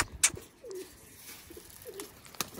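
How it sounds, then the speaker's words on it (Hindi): Low, soft coos of large pigeons in a net rise and fall twice against an outdoor background, with a couple of sharp clicks and brief chirps. "ये बड़े कबूतर हैं जाल में सारे"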